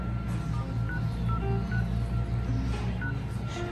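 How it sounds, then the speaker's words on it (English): Smartphone keypad dial tones beep in short separate bursts as digits are typed, an irregular sequence of brief tones over a steady low background hum, with no talking. "Go to your phone, open it, go to dial,"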